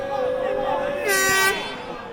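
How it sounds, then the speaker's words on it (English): A Hayes supporter blows a foghorn at a non-league football match, one brief blaring blast with harmonic tones that stands out over steady crowd noise and commentary. "a Hayes supporter pulls out a foghorn and attempts to put off their own free kick"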